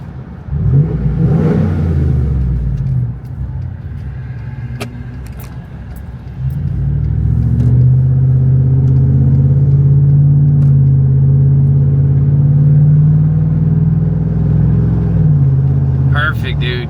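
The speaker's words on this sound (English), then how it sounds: "got that muffler out of there, and the truck sounds awesome" A loud, deep Ford Coyote V8 truck engine with its muffler removed rumbles and revs, dipping briefly before swelling into a sustained throaty drone that fades slightly near the end.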